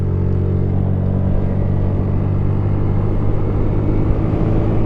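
A Honda scooter, sold as the cheapest new Honda, rides through traffic. Its engine gives a loud, steady, close-up drone with a low rumble and constant wind and road noise throughout.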